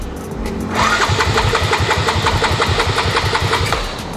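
Modified Yamaha Fino 200cc scooter engine cranks and starts after a brief lead-in, then runs with a loud, steady pulsing idle close by for several seconds before easing off.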